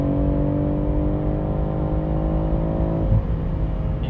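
A BMW M140i with a Remus exhaust revs while downshifting at about a third throttle, a steady droning engine note with rising harmonics that drops and shifts near the end, heard from close by without talking.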